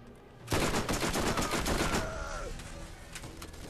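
Video game Borderlands gunfire erupts suddenly into a loud burst of rapid shots, then tapers into a trailing rumble and fading echoes.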